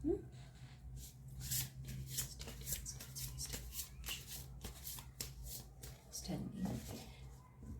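Osho Zen tarot cards shuffled by hand in a series of soft, papery riffles and rubs, close and fairly quiet, with a voice speaking over parts of it.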